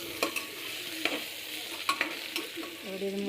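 Spices frying in a kadai with bay leaves, cumin, panch phoron and ginger paste alongside potato, dal and peanuts, giving a steady close sizzle broken by sharp clinks and scrapes of stirring.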